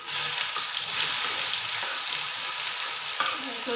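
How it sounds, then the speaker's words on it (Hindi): Onions sizzling in hot oil in a pan while making chana dal pakoda curry, a steady broadband crackle with a few stirring scrapes, close and continuous, no talk. "अब इसमें मैं ये प्याज डालूँगी"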